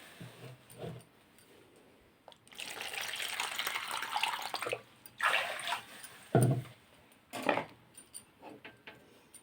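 Water pours into a cooking pan for a semolina and gram flour dish, a close, splashy gushing that comes in several separate bursts with short pauses between them.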